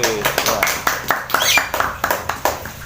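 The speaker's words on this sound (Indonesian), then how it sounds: "Iya, tepuk tangan semuanya." Students in a classroom clap together in a loose, uneven rhythm of about a dozen separate claps over a few seconds, while voices talk across the clapping.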